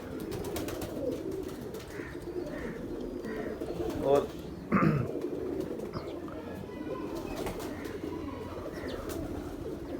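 A pigeon coos softly in low repeated calls while someone talks nearby over a steady background din.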